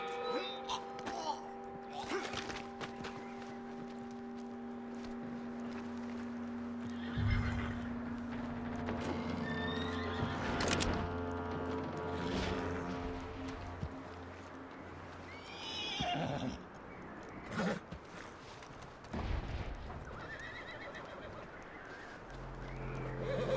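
In the video game Red Dead Redemption 2, a horse neighs and whinnies several times, with clip-clop hooves and characters talking at moderate level throughout.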